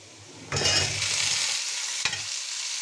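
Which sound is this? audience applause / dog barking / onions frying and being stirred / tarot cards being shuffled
onions frying and being stirred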